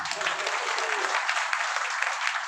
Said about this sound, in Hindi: एक बार हंसकर ताली बजाइए।